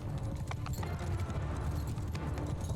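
Cavalry horses gallop in a charge in the Mount & Blade II: Bannerlord video game, a dense, steady drumming of many hooves with a rumbling low end, continuous and fairly loud throughout.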